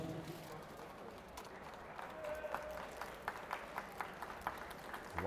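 Scattered, faint clapping from a crowd at a junior arm-wrestling finals after a women's over-90 kg bout, sparse claps over a low murmur of background noise.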